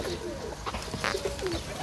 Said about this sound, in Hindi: मोतियों वाले सियालकोटी कबूतर हैं